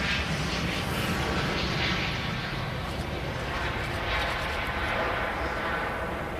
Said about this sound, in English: That's an EasyJet A320neo off to Belfast.